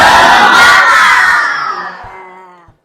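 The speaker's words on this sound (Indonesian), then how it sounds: "Sekarang kita tepuk semangat." A school class shouts a loud group cheer in unison, a short burst of many young voices that fades out within a few seconds.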